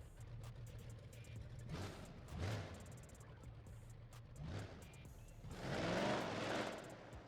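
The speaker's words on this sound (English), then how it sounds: "All right, so we are finally driving the Challenger here." A Dodge Challenger driven in the BeamNG.drive game, its engine faint and distant, rising in several revving surges and easing off between them, with the strongest push near the end.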